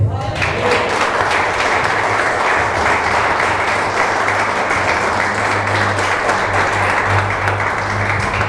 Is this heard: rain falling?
no